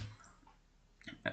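Two short, sharp clicks from a computer mouse while navigating to the settings menu, coming near the end after a quiet stretch, close and fairly crisp.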